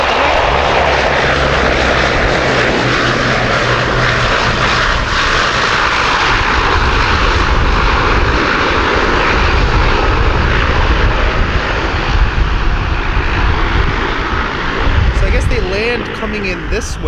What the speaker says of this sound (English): Oh, that's a different plane.